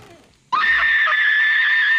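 A woman's sudden, piercing scream in The Ring horror film bursts in after a brief quiet moment and holds loud and sustained at a high pitch, heard alone.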